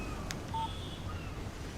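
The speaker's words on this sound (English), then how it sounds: "Text message from Barry." A short electronic beep tone from a phone text message alert in the video game Alan Wake, sounding once over a low steady background hum.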